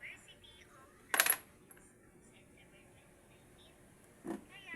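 Coins, including an unusual foreign-looking one resembling a 10-peso piece, drop with two distinct bright metallic clinks a few seconds apart in an otherwise quiet room.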